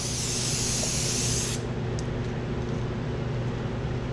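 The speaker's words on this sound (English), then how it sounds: "I'm just airbrushing air right now to dry this off" Airbrush blowing plain air with no paint to dry freshly sprayed paint; a steady close hiss for about a second and a half, then cutting out, leaving a low background hum.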